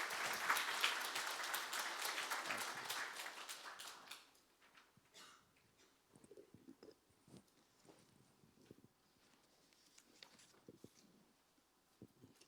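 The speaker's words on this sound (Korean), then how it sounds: "나오실 때 환영의 박수 우리 하시겠습니다." A church congregation applauds to welcome a pastor, with dense clapping for about four seconds that then thins into scattered quiet claps and shuffling noises.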